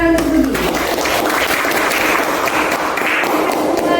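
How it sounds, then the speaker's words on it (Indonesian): A school class claps for a student named Budi, ranked third in a mathematics lesson. The clapping is loud, close and continuous, with a brief tone at the start fading as the applause fills the room. "Tepuk tangan untuk Budi"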